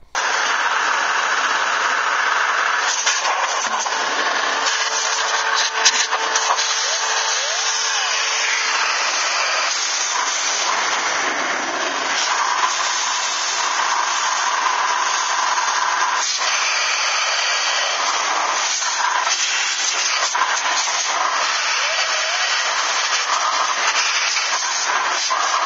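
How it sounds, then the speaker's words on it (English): The exhaust side of a shop vac blasts air continuously into a desktop computer case, blowing dust from top to bottom, a loud, close, steady rushing roar with shifting hiss and rattle as the nozzle moves. "I'm going to use the exhaust side of my shop vac and just blow out all of the dust from top to bottom."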